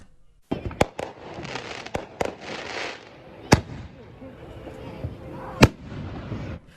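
Illegal fireworks in Kern County go off as loud, sharp bangs at irregular intervals, with crackling bursts and hissing between the blasts and faint voices underneath.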